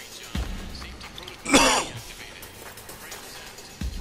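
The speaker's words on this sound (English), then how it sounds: "Why did I have to cough?" A single harsh cough rises out of quiet background noise, with a few soft thumps before and after it.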